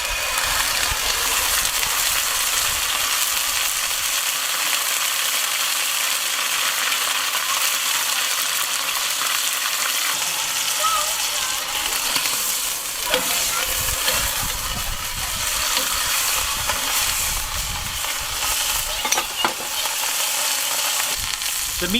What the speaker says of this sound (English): we're going to put the meat in and give it a good roasting from all sides